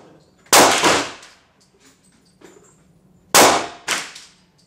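A Winchester 9422 rifle fires .22 short rounds at 25 yards, giving four sharp, loud cracks in two closely spaced pairs, each followed by a brief decaying echo, with quiet handling in between.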